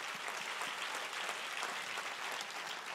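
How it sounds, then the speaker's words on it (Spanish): Steady, dense applause from a church congregation fills the whole stretch at an even, fairly loud level, with no voices standing out above it. "si ese es el aplauso, dáselo mejor, dáselo bien"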